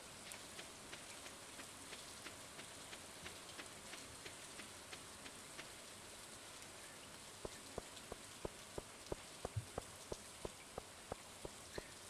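Rain falling in the farming video game Stardew Valley: a steady, soft patter of drops with a faint even wash behind it, joined later by regular, sharper ticking hits, quiet throughout and with no talk.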